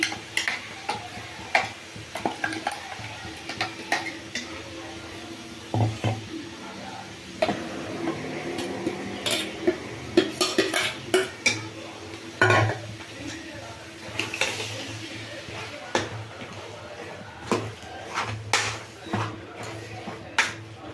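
Mutton tripe is stirred with masala in a pan: a spoon scrapes and clinks against the metal at an irregular pace under a soft sizzle, close and moderately quiet.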